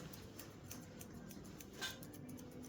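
Scissors trimming clay during a second-firing pottery session, a few quiet snipping clicks over a faint background hum, with one slightly sharper cut near the end and no speech.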